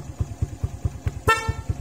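A loud, brassy dual horn on a TVS motorcycle blasts once, cutting over a steady rhythmic engine idle thumping underneath.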